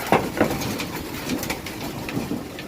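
Pigeons from a loft cooing and fluttering amid a busy outdoor background, with scattered wing flaps and soft bird calls, no talking.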